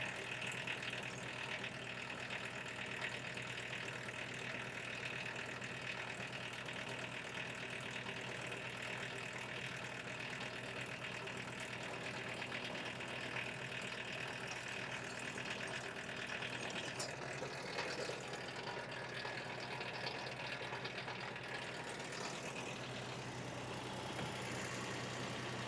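A logging winch engine runs steadily while reeling in cable during hemlock and white pine harvesting, a continuous loud mechanical drone with a faint rattling texture that holds for the whole stretch, with no voices.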